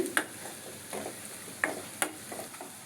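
Onion, garlic and curry leaves are sautéed in oil for a green sundakkai kuzhambu. A gentle sizzle runs under a few sharp spoon taps and scrapes against the pan.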